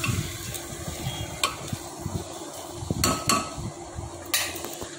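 A spoon stirs vegetables and dalia in a cooking pot with a soft sizzle underneath, making scraping strokes and several sharp clinks against the pot.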